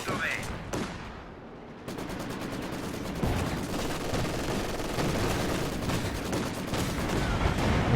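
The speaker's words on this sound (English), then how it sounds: "Looks like Panzer IV took a few good shots from 6-pounder" Combat in Company of Heroes 2 as a British 6-pounder anti-tank gun fires on a German Panzer IV, with dense, continuous gunfire and explosions building into a loud battle din.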